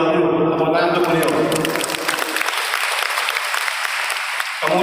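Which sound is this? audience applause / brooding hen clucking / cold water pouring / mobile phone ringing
audience applause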